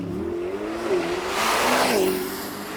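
A Corvette ZR1X launching hard from a standstill on a 0-60 run, its engine note climbing through a quick rising sweep, dipping briefly at a gear change, then surging again, heard from outside at moderate volume.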